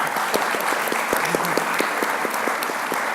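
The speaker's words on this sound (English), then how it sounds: "Round of applause for him, please." An audience at an astronomy speaker-series event applauds a panelist's introduction with dense, continuous clapping and a few sharper individual claps standing out.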